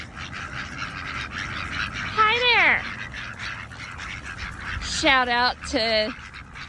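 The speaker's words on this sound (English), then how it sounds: "I found a bunch of ducks." Ducks and geese at a park pond in Trinity Hills Park give a honking call near the middle and two more loud honks toward the end, heard over someone talking and faint background noise.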